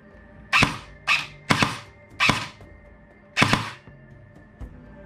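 An airsoft MA5B (CB-88) rifle gearbox fires during a trigger test, giving five sharp, snappy shots at uneven intervals, close and crisp. A faint click follows near the end, with a low background hum and no speech.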